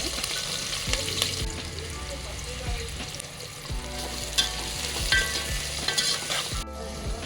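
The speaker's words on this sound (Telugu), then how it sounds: "నూనె వేడైంది. ఆనియన్స్ వేసుకొని, ఉల్లిగడ్డ వేసుకొని అన్నీ వేసుకోవచ్చు." Onions frying in hot oil in a pan for a mutton curry: a steady, close sizzle and crackle with stirring scrapes, continuous throughout and without speech.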